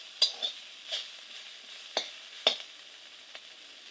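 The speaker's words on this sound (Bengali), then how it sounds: "দেখুন ভাজা হয়ে আসছে" Drumstick leaves frying in a pan, a quiet steady sizzle broken by several sharp scraping stirs of a spatula at irregular intervals, close and faint overall.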